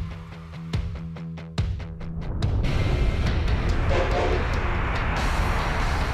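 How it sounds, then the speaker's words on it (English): An Amtrak Acela Express high-speed train on the Northeast Corridor sounds a few sharp horn blasts, then a loud, sustained rushing roar of the train passing close by. "This lightning-fast European-style bullet train links the biggest cities in the U.S."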